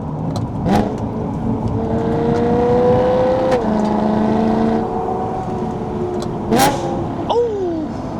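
A BMW E92 M3 engine with a full custom exhaust system idles, then revs with a deep exhaust rumble, pitch rising and falling, followed by a couple of sharp throttle blips, heard from indoors.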